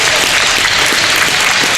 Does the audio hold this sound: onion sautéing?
no